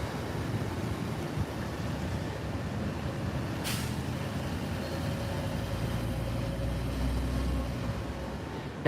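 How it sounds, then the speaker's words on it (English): An empty hop-on, hop-off tour bus passes on a Tokyo street with a steady, loud engine rumble and road noise, broken midway by one sharp hiss of its air brakes. "Look at this tour bus, completely empty."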